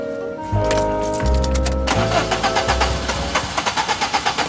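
A car engine cranks over and over without catching, giving a strained mechanical churn followed by a rapid series of rhythmic starter pulses, loud and close with no voices.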